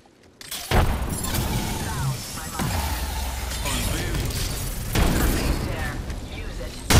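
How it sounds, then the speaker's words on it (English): Frag grenade blast in a first-person shooter game, a heavy boom early on followed by crackling debris and further bursts amid ongoing gunfire, with voices talking over the action. "Throwing frag."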